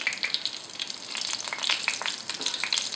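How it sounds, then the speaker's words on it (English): Red chilies fry in hot oil for chicken korma, giving a steady, close crackling sizzle with scattered sharp pops throughout, no voices. "once you start seeing that the red chilies have started to take in the heat"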